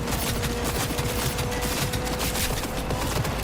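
Dense, continuous gunfire in Cyberpunk 2077, a steady rattle of rapid shots mixed with mechanical clatter, loud and unbroken throughout with no talking.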